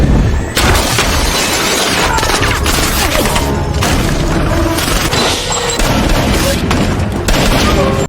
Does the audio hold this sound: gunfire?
yes